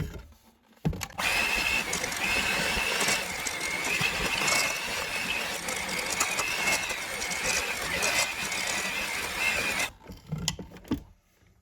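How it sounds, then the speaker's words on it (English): An electric mixer blends cherry kiss cookie dough, running loud and steady with a high whine for about nine seconds between brief quiet moments at the start and end. "Now we're going to blend this together."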